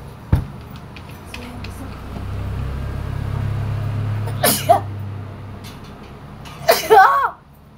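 Two short, sharp sneezes burst out near the end, closely spaced, after a quiet stretch with a low rumble and a faint click at the start.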